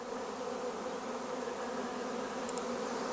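A swarm of honey bees flies in, a dense, steady buzzing drone that holds at an even level from start to finish, with no talk over it.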